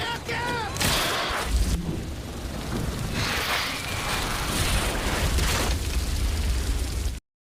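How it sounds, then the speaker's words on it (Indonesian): A powerful gas blowout roars from an oil well at an early oil field, a sustained loud rushing blast with explosive bursts near the start, continuing strongly before cutting off abruptly. "semburan gas dari dalam sumur berhembus dengan kuatnya disertai suara ledakan"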